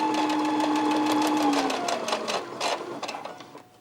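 A sewing machine stitching along a quilt's binding edge hums with a steady rapid motor whine, then slows into uneven mechanical chattering, close and alone.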